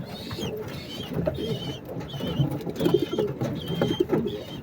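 Several pigeons coo in soft repeated calls over a low, murmuring backdrop of flock sounds, fairly quiet and close, with no talk.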